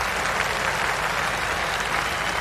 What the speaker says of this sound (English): Warm applause from this packed house at Old Trafford for Darren Gough